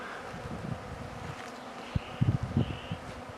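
Faint insect buzzing drifts in and out against a low background hiss, with a few soft thumps and rustles nearby.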